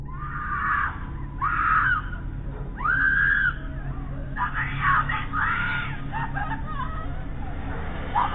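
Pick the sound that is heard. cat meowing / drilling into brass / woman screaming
woman screaming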